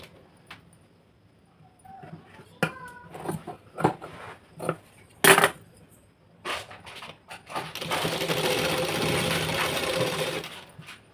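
Scattered clicks and fabric handling knocks lead into a sewing machine running steadily for a few seconds near the end, close by, stitching a lined blouse.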